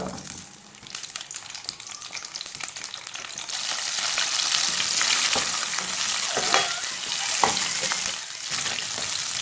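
Onions fry in mustard oil with a steady, dense sizzle and crackle that swells louder partway through and keeps going without talk.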